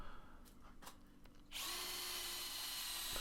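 A power drill bores a hole in very hard antler, with faint scraping first and then a steady, loud, high whine of the motor spinning up and running continuously at close range.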